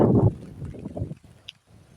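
Wind gusts across a maize field in light rain, buffeting the microphone in a loud rumbling burst at first and then in weaker, broken puffs.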